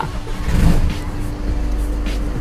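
An Isuzu Spacecab 1.9 pickup engine turns over and catches, then settles into a steady, close idle hum.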